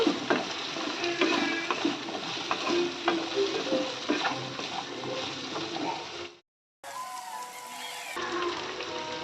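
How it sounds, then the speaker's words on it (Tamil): Garlic and onion sauté in an oily pan for a village-style vatha kuzhambu, a continuous close sizzle with scraping stirs, briefly cut by a moment of silence before the frying sizzle resumes. "பூண்டும் இந்த வெங்காயமும் நல்லா வதங்கணும். வதக்கிக்கலாம் பூண்டையும் போட்டு."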